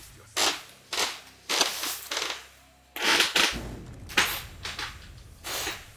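Turret gunfire in Call of Duty: Black Ops II, heard as a series of sharp, loud bursts spaced roughly half a second to a second apart over a low background hum, with no talking.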